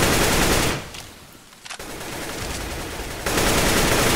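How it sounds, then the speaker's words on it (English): Rapid automatic gunfire in a Counter-Strike esports match between The Mongolz and Natus Vincere, loud bursts fired blind through smoke, breaking off briefly mid-clip before the sustained shooting resumes. "blind firing through smoke, trying to get that play done"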